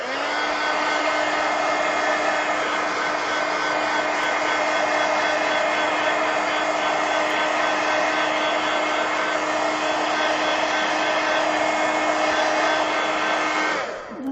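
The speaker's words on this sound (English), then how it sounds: "let me hit this with a heat gun, guys." A heat gun blows steadily while drying Inktense ink on a colored artwork page, a loud, even whirring hiss that runs unbroken for about fourteen seconds before cutting off.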